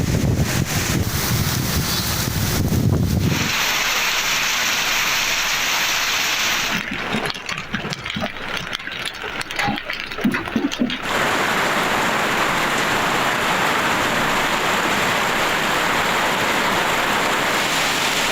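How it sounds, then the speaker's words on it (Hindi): Heavy rain driven by strong wind across cities in Punjab, including Lahore, a steady broadband roar of downpour and gusts buffeting the microphone, loud and continuous with brief lulls and a sharper rushing texture midway. "लाहौर समेत पंजाब के शहरों में तेज़ हवाओं के साथ बादल बरसे।"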